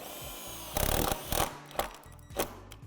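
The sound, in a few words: power drill driving self-tapping screw through metal tube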